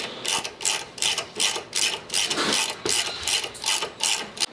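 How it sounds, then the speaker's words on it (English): Steady mechanical ratcheting from hand-tapping M5x0.8 threads into drilled holes in a 68RFE transmission valve body, a rhythmic series of close, crisp clicking bursts roughly twice per second with no talk. "We'll tap those holes, and then we'll be able to clean this back up to make sure there's no shavings"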